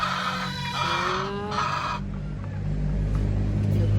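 Hungry hens and pullets kept as local breeding stock cluck nearby, with short chicken calls over a steady low rumble in the background.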